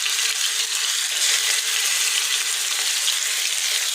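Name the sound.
chicken tikka pieces frying in hot oil in a pan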